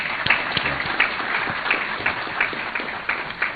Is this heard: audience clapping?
yes